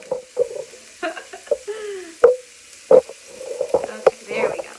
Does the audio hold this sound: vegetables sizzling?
yes